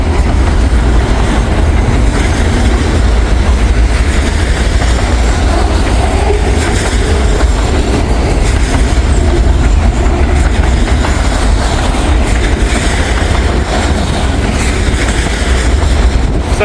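A freight train rumbles past close by with a steady, loud broadband roar and faint clickety-clack of wheels, its empty cars rattling continuously for the whole stretch under a chilly, overcast sky.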